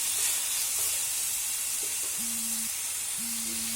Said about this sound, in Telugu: దొండకాయ ముక్కలు కొంచెం సాఫ్ట్ అయ్యేలాగా వీటిని ఫ్రై చేసి పచ్చిమిర్చి యాడ్ చేసుకున్నాం.